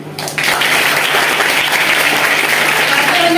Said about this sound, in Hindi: तो उनके लिए भी ताली मिलेगी